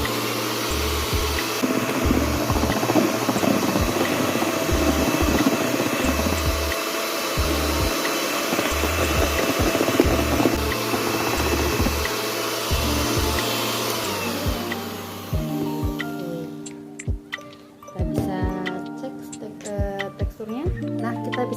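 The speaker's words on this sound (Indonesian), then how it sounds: "Kita lanjut mixer kembali." An electric hand mixer whirs steadily while beating egg whites for pancakes, loud and continuous for about fifteen seconds before stopping, followed by scattered clinks and handling noises.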